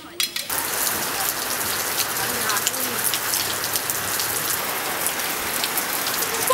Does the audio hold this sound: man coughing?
no